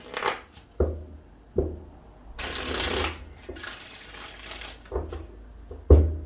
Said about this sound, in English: Let's give this 5 shuffles here.